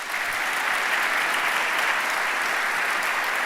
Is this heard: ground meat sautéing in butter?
no